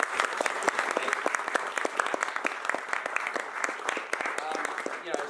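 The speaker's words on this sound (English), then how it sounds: "So it's round of applause for that film." An audience at a film screening Q&A panel claps after the premiere, dense close applause with sharp individual claps running throughout, with a little speech mixed in.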